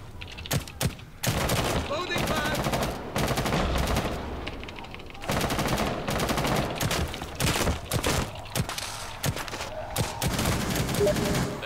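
Shotgun fire in the zombie game The Outbreak during Pandemic Mode, with dense, loud volleys of blasts pounding almost continuously in long bursts and only brief gaps between them.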